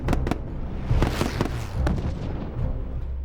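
A tank blown up in a large movie stunt explosion, heard as a cluster of sharp, loud booms and cracks with rumbling debris between the blasts.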